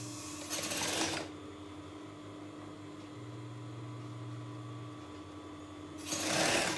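A sewing machine runs along a dress hem in one steady, even stitching drone, with brief louder handling noise at the start and end.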